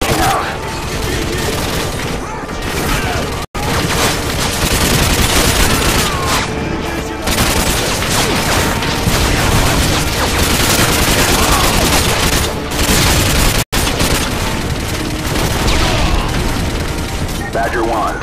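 Dense, loud gunfire and explosions roar almost continuously in Call of Duty Modern Warfare 2 Spec Ops, with sustained automatic fire and heavy booms dropping out twice for an instant, while radio chatter sounds under the din.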